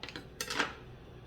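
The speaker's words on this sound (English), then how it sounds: "I'm going to cut my cheese into little thick slices, just like that." A knife slicing a block of cheese into thick slices for chile relleno, heard as a couple of short, close scraping cuts against a board with brief clicks, no talking.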